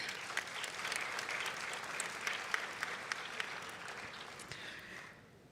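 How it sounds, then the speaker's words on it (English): Audience applause at a public health conference in Africa, dense steady clapping for several seconds that fades out at the end, heard from a distance in a large hall. "I would like a round of applause for her"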